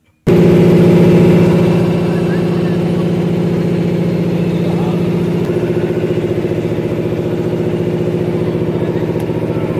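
A boat's motor drones steadily as the boat crosses the Ganges toward Mayapur, a loud, close, throbbing engine hum that starts suddenly and runs evenly for nearly ten seconds.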